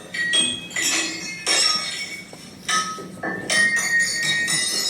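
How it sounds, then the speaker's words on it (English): A hammer strikes a ceramic commode, a series of sharp, ringing clinks and cracks spaced irregularly, each followed by brief shattering rattle, loud and close. "She's breaking the commode down with a hammer."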